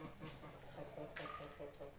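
Chickens kept in a storage room because the coop is full cluck softly and intermittently at a distance, faint against a low room murmur.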